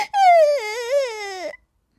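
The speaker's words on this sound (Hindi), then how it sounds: "उसे रोने की आवाज आती है" A high, wavering cartoon wail of crying in a forest rises and falls for about a second and a half, then stops abruptly into silence.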